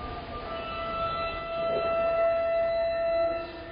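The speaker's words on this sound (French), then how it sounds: "Cette sirène avise le conducteur et les passagers que le train est prêt à partir." A Paris metro MP73 train's departure warning siren sounds as a steady sustained tone over station and train noise, moderately loud and continuous, swelling slightly toward the end.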